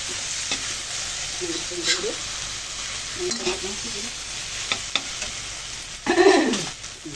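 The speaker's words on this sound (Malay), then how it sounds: "Masukkan nasi untuk digoreng makan" Cooked rice for beef fried rice is stirred and fried in a hot pan. A steady sizzle runs under repeated scraping strokes of the spatula, and a louder, fuller stir near the end pushes the hiss up.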